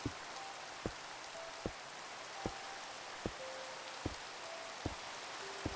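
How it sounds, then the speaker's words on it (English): Steady, hissing rain falls in the Minecraft video game during Skyblock play, a continuous even wash of sound with faint, regular ticks and brief tones repeating roughly every second, with no talking. "Look at the rain falling into the void."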